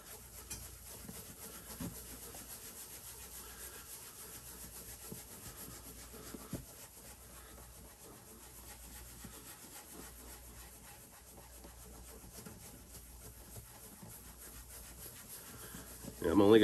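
A rag is worked firmly over the body of a Gibson guitar, making a quiet, steady rubbing and scuffing that carries on throughout, with a brief louder noise at the very end.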